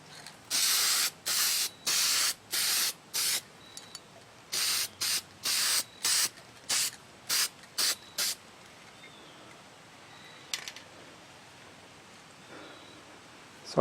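Short hissing bursts of spray paint laying another coat on a Lisle 91000 drill grinder, roughly a dozen close, loud squirts in two quick runs, then a quiet stretch with faint handling noise.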